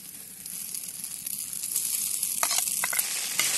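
Lagman noodles with egg fry in a kazan over a campfire, a steady close sizzle that grows louder, with occasional scraping stirs and no talk.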